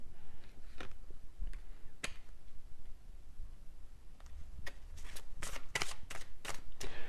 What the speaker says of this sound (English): when I shuffled this messages deck